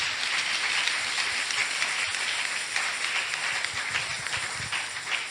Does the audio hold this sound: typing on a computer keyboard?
no